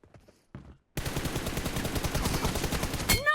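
Sustained rapid gunfire in the mobile battle royale game PUBG Mobile, a dense close burst of automatic shots running for a couple of seconds after a brief quiet start.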